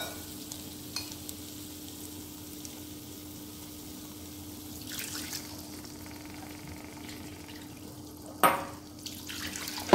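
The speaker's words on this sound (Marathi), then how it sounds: "आता आपण आपल्याला जितपत कन्सिस्टन्सी हवी तेवढं त्याच्यात पाणी घालायचं" Water is poured into cooked Kolhapuri misal masala in a pan, giving a quiet sizzle and trickle over a steady low hum, with a louder splashing burst near the end.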